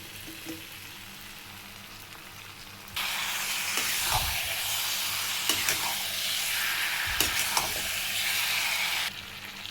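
Lemon pickle mixture of dates and lemons being stirred in hot oil in a pan, a steady loud sizzle kicking in after a quiet start with scraping stirs, then cutting off near the end; no talking.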